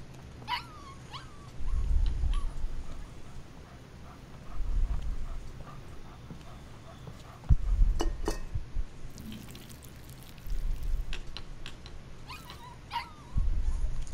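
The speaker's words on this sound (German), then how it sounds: "Oh nein, der Hund." A dog in the video game Life is Strange 2 whimpers and whines in short repeated bursts every few seconds, fairly close and alone with no speech.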